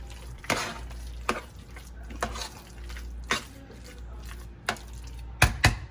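A spoon mixes pepper into homemade potato salad in a bowl, giving soft, repeated scraping strokes about once a second, with two sharper knocks near the end.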